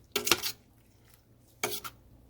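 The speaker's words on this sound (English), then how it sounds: "stir it up" A spoon scrapes and clinks against a pot on the stove over medium-high heat, two short bursts of metallic stirring separated by a quiet pause.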